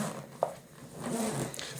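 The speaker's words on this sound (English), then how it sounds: "The front of the case unzips." A zipper is pulled open on the carry case of a heavy Gymna Shockmaster 300 machine. The zip makes a soft, close rasp that runs for about a second, with a small click just before it.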